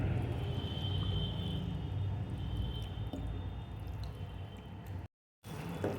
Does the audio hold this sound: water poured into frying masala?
yes